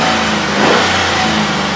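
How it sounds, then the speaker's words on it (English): Chevy Tahoe with a misfire: the engine runs loud and close, revving up briefly and settling back, with no talking. "Let's fire it up and see if our misfire goes away here."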